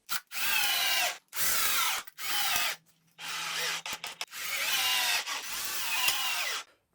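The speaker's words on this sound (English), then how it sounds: "I'll move the bracket into place and attach it with some screws." Power drill driving screws to fasten a bracket in place, heard as close, loud whirring bursts of one to two seconds each, separated by short pauses and a brief fumbling clatter.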